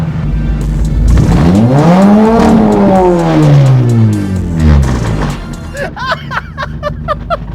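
A car engine with its exhaust replaced by a rain gutter revs hard, rising and falling through a raspy, loud roar, followed by rapid popping crackles as it settles.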